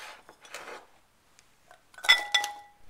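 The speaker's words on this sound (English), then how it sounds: "now I'm going to add the carrots" Baby carrots tumble into a metal dish for a lemon-glazed recipe, giving a quick cluster of bright clinks and clatters near the end after a few soft scraping knocks, with no one talking.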